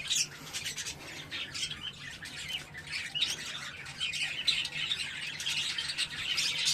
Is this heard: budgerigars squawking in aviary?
yes